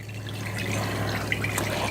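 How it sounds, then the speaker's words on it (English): Hot water poured into a container of salts for a compress, a short continuous splashing pour heard up close with a faint trickling edge. "and then I'm going to pour my water in there."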